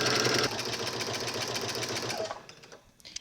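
A sewing machine runs steadily, stitching a knit dress bodice to the skirt. The motor hums loud and close for about two seconds, then slows and stops, leaving near silence.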